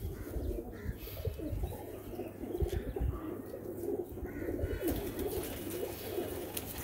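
Golden pigeons coo in a loose, overlapping chorus at a pigeon keeper's loft, soft repeated calls layered over a steady murmur of birds with an occasional chirp, moderately close and continuous throughout.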